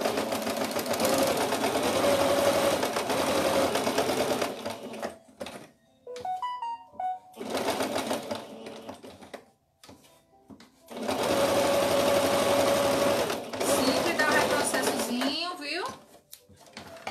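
A sewing machine stitching small cloth clothing for a rag doll runs in long loud bursts, stopping for short clicks and fabric handling in between, then starting again.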